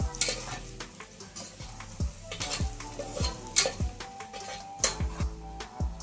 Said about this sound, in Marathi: साहित्य छान तळल्या जात आहे